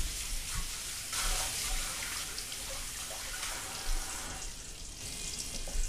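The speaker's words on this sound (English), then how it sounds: "I'll go ahead and start washing." Tap water runs into a kitchen sink while pans and utensils are washed during cooking. The hiss is continuous and fairly close, with a few clanks and splashes on top and no voice.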